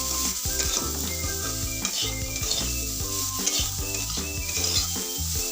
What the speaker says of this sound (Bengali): এবার এইগুলো সব একসাথে ভালো করে নাড়তে হবে।